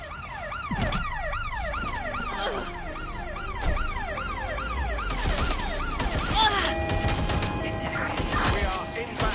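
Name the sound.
ambulance siren in Watch Dogs video game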